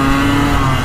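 A Yamaha RX King motorcycle, just repaired after a leaking compression fault, is tested at night; its engine holds a loud, close, steady high rev for a brief moment with no voices.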